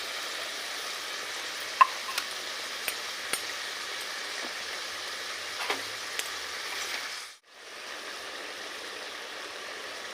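Mustard paste sizzles in a frying pan while potol malai curry cooks, a steady soft frying hiss with a few small clicks of stirring, briefly cut off near the end.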